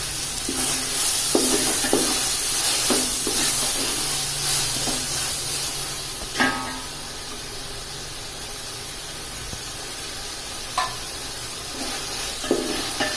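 Tomatoes stirred into sautéed ginger and garlic in a pan for country chicken biryani, giving a steady close sizzle with occasional utensil scrapes and clicks, no talking.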